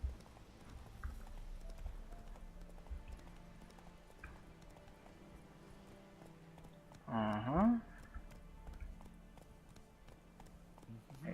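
Roach the horse trots up with clip-clop hooves and gives a short neigh in The Witcher 3, the hoofbeats moderate and steady under quiet game ambience.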